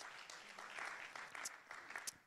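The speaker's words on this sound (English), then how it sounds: "Can we clap for them one more time?" A church congregation claps together in a brief, fairly faint round of applause with uneven swells, and no voices stand out.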